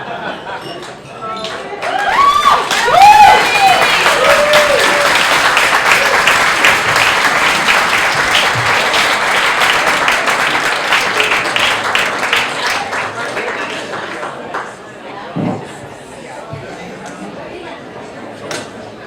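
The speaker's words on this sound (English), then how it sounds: "if you can give a rousing round of applause for all the wonderful toasts" Wedding guests applaud after a toast, a dense, loud burst of clapping that swells quickly and holds for several seconds, mixed with crowd chatter and voices, then thins to scattered claps near the end.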